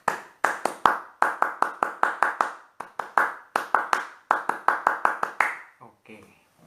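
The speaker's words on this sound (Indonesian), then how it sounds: "mari kita sama-sama 2 kali tepuk Pramuka" A Pramuka scout group claps together in a fast rhythmic pattern, with sharp, close, loud claps coming in repeated bursts and brief pauses between phrases. The clapping fades near the end.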